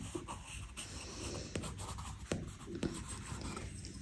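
A 10B graphite pencil scratches across paper in short, soft strokes, close and quiet, with a few slightly sharper taps of the lead.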